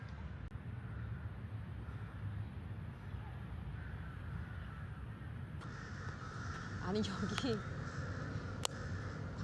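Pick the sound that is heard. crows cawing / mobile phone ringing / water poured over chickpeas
crows cawing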